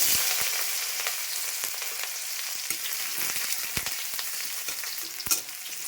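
Garlic and onion sizzle in hot oil in a home kitchen pan with dried red chilli, a steady bright crackling fry broken by sharper pops and a few stirring scrapes, with no voices.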